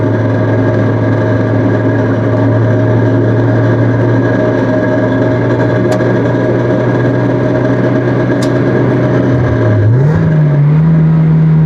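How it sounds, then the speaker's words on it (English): A Mazda Miata NB with a cheap aftermarket exhaust drones loud and steady up close, then its raspy note shifts in pitch near the end as the revs change. "The exhaust itself doesn't sound too bad though. Like, It's just a little raspy."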